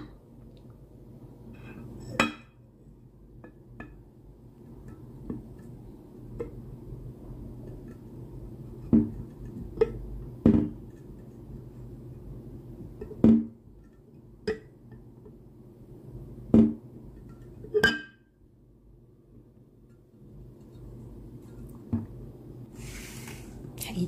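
Homemade yogurt being scooped from a container into bowls, with sharp intermittent clinks of a spoon against dishes over a quiet kitchen background, spaced irregularly across the clip.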